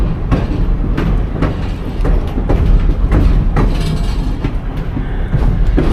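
Reading & Northern passenger train rolling along rails between Mt. Carmel and Ashland, a loud steady rumble heard from on board, with rhythmic clickety-clack of wheels over rail joints throughout.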